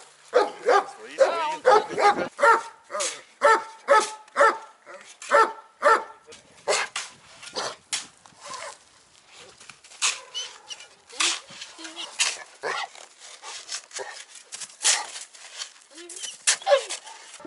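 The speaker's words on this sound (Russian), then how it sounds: "Чтобы нас не лаял, да?" A dog barks repeatedly, sharp and close, in uneven bursts, with people talking in between.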